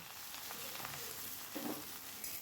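Ridge gourd frying in oil spiced with cumin and dried red chilli, a steady low sizzle with faint stirring scrapes, heard close and alone.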